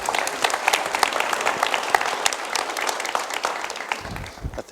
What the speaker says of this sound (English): Give them a round of applause right there.